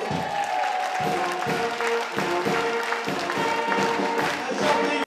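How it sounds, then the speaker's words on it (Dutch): A crowd at a local community award event in Zeeland applauds and cheers as the winner is welcomed, dense clapping with whoops and a held musical tone beneath, loud and continuous for five seconds. "Mag ik een groot applaus voor de spouse van het jaar"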